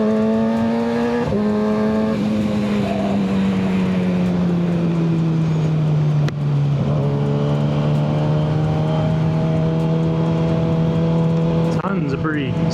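A Kawasaki ZX6R sport motorcycle with a Yoshimura slip-on and full header exhaust roars loudly and continuously from the rider's seat, its engine drone sliding in pitch with brief breaks at gear shifts, over steady wind rush.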